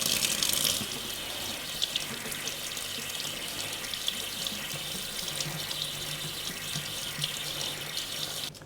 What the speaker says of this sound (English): I'm going to run the water over where all the etching cream is